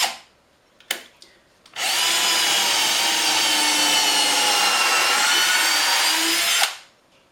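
A drill pre-drills into a maple jig with a bit slightly smaller than the screw, preceded by a few clicks and knocks, then a steady close whir of about five seconds that stops abruptly.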